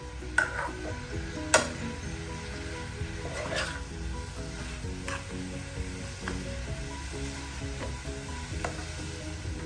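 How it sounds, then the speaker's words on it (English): Blanched red greens stirred in a pan over high flame, giving a steady soft sizzle with scattered ticking clicks and a few sharp spoon knocks, close and quiet. "And I increase the flame and give it a good mix"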